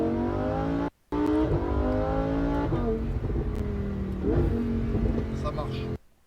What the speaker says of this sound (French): c'est exactement comme une Huracan Perf au niveau de la sonorité de l'échappement